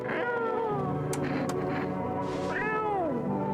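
A cat meows in a psychological horror video game, two drawn-out, wavering meows at close range, the second rising then sliding down, over a steady low game ambience.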